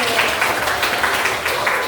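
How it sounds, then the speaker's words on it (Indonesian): Students in a religious studies classroom give a short, even round of applause, fairly soft and continuous throughout. "kasih tepuk tangan dulu"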